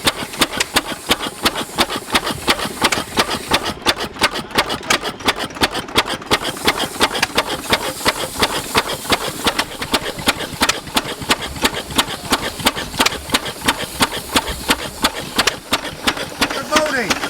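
A vintage engine runs steadily at a heritage transport show, its rapid regular beat continuing throughout at close range while people talk over it.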